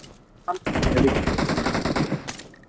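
Close, loud rapid automatic gunfire in the mobile video game PUBG Mobile, a sustained burst of about two seconds that starts after a brief sound and ends abruptly.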